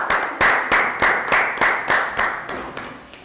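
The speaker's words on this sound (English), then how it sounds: "Round of applause." A small group of young schoolchildren claps in a classroom, a rhythmic burst of about ten loud, evenly spaced claps that fades slightly toward the end, with no talking.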